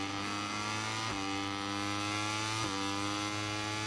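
Moto3 motorcycle engine in MotoGP 23 holding a high, steady whining rev with strong harmonic tone, briefly dipping twice as gears shift, loud and close throughout with no talk.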